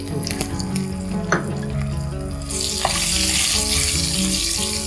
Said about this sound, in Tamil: இது குட்டி வெங்காயம் இதில் அப்படியே போட்டு